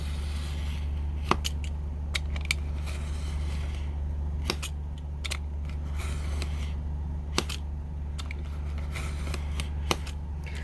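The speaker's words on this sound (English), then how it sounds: "So we're going to score it a few times and it should snap right off." A sturdy utility knife scores a Dollar Tree frame in a few sharp, scattered clicks and scrapes over a low steady hum, close by and fairly quiet.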